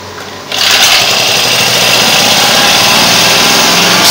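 A small engine on a desktop dynamometer starts abruptly and runs with a loud, steady high-pitched buzz as the throttle opens, no talk.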